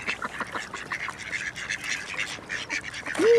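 A duck quacks repeatedly beside a carp-fishing spot in France, its calls clear and fairly close, scattered through the clip with a louder call near the end.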